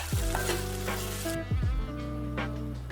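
Ginger garlic paste frying in a pan for a drumstick tomato curry, with a loud sizzle and a couple of stirring scrapes close by.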